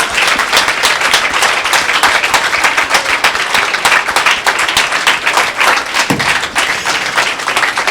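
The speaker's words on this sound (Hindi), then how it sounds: "तालियां बजा दें।" A church congregation claps loudly at a Palm Sunday service, a close, rapid burst of many hands sustained for several seconds with slight swells.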